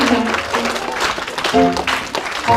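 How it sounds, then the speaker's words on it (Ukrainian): An audience at a celebration of the International Day of Older Persons applauds, a crowd clapping moderately loud beneath music and voices. "Давайте подякуємо ще оплесками за щирі привітання колективу"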